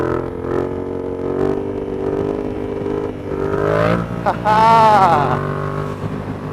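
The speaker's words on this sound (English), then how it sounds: "Sorry, I didn't want to rev it up in my neighborhood, but it sounds good. Really good sounding bike" A motorcycle engine drones steadily while riding, then climbs in pitch as it accelerates near the end, with a man laughing briefly over it.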